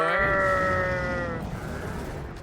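A goat in the video game Dragon's Dogma: Dark Arisen gives one loud, drawn-out wavering bleat that fades into quieter game ambience.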